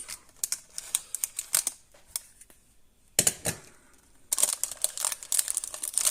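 Large utility knife slicing through toy packaging tape and cardboard, with bursts of scraping, crinkling and tearing noises in clusters separated by short pauses, close and fairly quiet.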